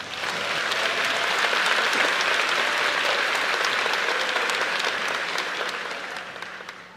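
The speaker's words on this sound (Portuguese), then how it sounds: "Quem pode dar a Jesus uma linda salva de palmas?" A church congregation claps during an evangelical sermon, a full room of applause swelling quickly, holding dense and steady for several seconds, then tapering off at the end.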